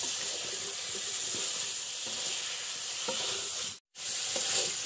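Meat and potatoes sizzling in spices in a pan while being stirred, a steady crackling fry with light scraping touches and a brief dropout near the end, no voices.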